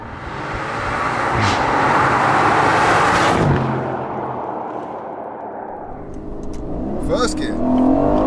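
A twin-turbo 503 bhp V8 Aston Martin Vantage accelerates hard, its engine note swelling and rising, then easing off before building again, with voices talking over it inside the car.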